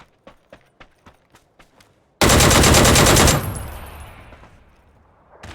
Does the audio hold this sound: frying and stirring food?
no